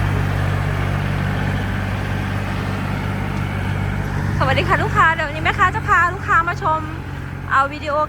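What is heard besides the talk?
Kubota L3208SP tractor engine running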